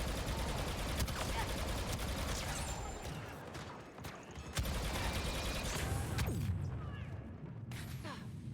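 Dense gunfire from a Star Wars Battlefront II match, with rapid bursts and sharp single shots layered over a constant battle din, plus impacts and crashes throughout, fairly faint overall.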